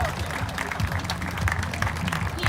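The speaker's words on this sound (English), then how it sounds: "Let's give them a big round of applause again." Outdoor crowd at a Dragon Boat Festival in Aurora, Colorado claps in a short burst of applause, fairly near and steady, with some crowd murmur mixed in.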